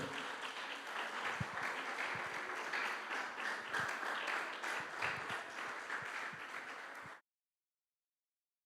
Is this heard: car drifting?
no